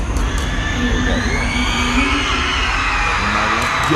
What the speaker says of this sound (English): when we start playing them, you hear screams